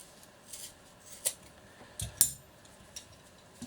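Scissors snip through a leash line, giving a few quiet, close-up cuts with soft metallic clicks and no voices.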